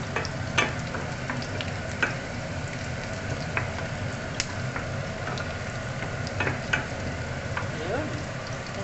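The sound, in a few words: onions sautéing in a pan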